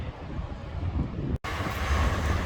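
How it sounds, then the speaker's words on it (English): A tram on Blackpool promenade approaches with a steady rumbling, hissing roar and a brief cut near the middle before the noise resumes, loud and continuous with no talk. "Here comes the tram now."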